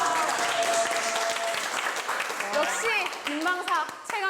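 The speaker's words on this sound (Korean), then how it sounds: "와, 박수." A group of navy sailors applauds a correct answer at a quiz event, brisk clapping for about two seconds, then voices and an excited host's speech run over the tail of the clapping.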